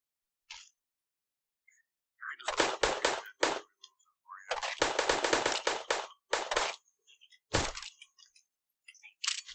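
Gunfire in a VRChat zombie attack game: bursts of rapid cracking shots, loud and close, in clusters separated by short gaps where the weapon is reloaded, with brief clicks between volleys.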